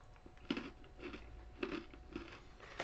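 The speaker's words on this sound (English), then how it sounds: "That was a crunchy one." Crunchy food being bitten and chewed close up, a run of soft, rhythmic crunches, about five distinct bites, alone in a quiet room.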